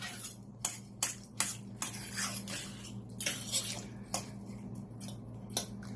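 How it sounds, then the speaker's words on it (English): A spoon stirs callaloo, saltfish and seasoned rice in a cooking pot. It gives a series of short scraping, clinking strokes at an uneven rhythm over a steady low hum, with no voices. "I'm just gonna stir it and let it cook"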